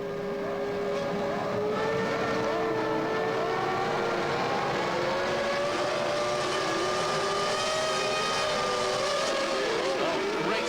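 Formula 1 cars lined up for the start of the 1998 Spanish Grand Prix, a dense field of high-pitched engines howling and revving together, loud and sustained, with rising and falling whines as the pack moves off.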